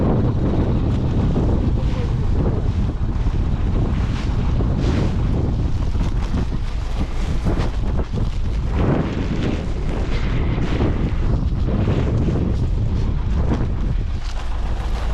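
Steady, loud wind buffeting a microphone outdoors in a farm field during soybean sowing, roaring and gusting without pause across the whole stretch, with faint water sounds beneath.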